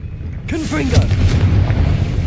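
A Confringo blasting spell cast in the Hogwarts Legacy video game, a sudden loud burst followed by a sustained booming rumble, with a voice at the start.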